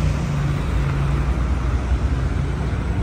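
A biturbo car engine held under 4000 rpm while driving gives a steady, close low drone mixed with road noise, with no talking.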